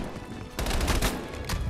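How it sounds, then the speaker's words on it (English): Shotgun blasts in Black Ops Cold War campaign gameplay: a quiet lead-in, then a loud burst of several booming shots with rolling gunfire lasting about a second, followed by a further shot near the end. "why am I trying to shoot someone from that far with a shotgun?"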